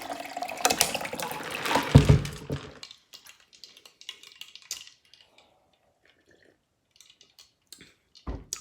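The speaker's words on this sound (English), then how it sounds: "So just gonna grab a cup and pour it in." Cooling summer tea poured into a cup, a close splashing stream for about three seconds, followed by soft drips and small clinks, then near quiet before a final low bump.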